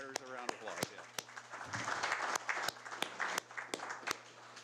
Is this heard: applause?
yes